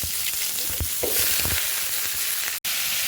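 Black cumin, chopped garlic and green chillies fry in a hot wok, a loud, steady sizzle with stirring scrapes and small crackles throughout.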